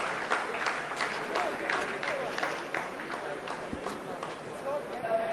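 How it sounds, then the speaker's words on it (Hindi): Scientists at ISRO mission control applaud after a Chandrayaan-3 descent phase completes, a continuous rumble of clapping at moderate level with a commentator's voice running over it. "आप इस तालियों के गड़गड़ाहट को सुन सकते हैं"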